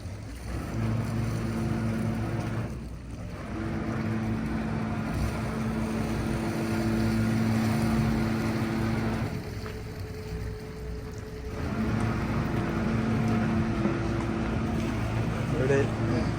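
Motorboat engine in North Berwick harbour, Scotland, a steady droning hum with a constant low tone running throughout, with water and wind noise and someone talking over it.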